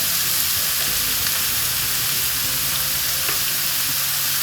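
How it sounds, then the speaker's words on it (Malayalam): Cabbage masala with onions being sautéed in a pan, a dense, loud, continuous sizzle and hiss up close, with faint occasional spatula ticks and no voices. "ഇതെല്ലാം നല്ലതുപോലെ ഒന്ന് വഴറ്റിയെടുക്കേ."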